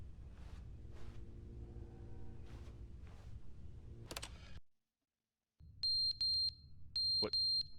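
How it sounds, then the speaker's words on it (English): A fire alarm in the video game The Stanley Parable rings out after ambient sound cuts to silence, sounding as loud, repeated high-pitched beeping bursts over a low hum. "That is the fire alarm."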